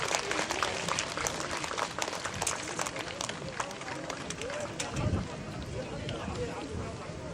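Applause rises from the crowd at an outdoor unveiling of a memorial stupa and stone tablet for a Buddhist monk, moderate clapping mixed with background chatter and a faint breeze, holding steadily before easing toward the end.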